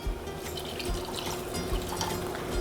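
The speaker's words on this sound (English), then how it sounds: "I'll rinse it out and we'll just add some water to this." Water runs steadily from a tap into an emptied tomato can as it is rinsed out, a continuous close splashing wash with some metallic resonance and no talking.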